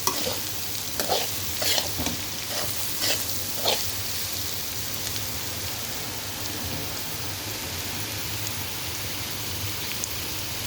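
Carrot, chana dal and grated coconut dry fry sizzling steadily in a pan, with a broad hiss and a few scraping stirs of the spatula near the start, then an even crackle to the end.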